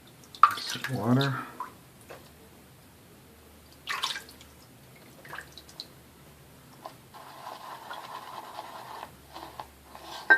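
Brief splashes and drips, then water runs steadily from a tap for a few seconds, close by, with a short voice heard near the start.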